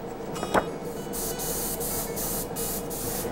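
An airbrush hisses in a steady close spray over a reproduction largemouth bass, with a brief tap at the start and faint pulsing as the spray is worked along an edge.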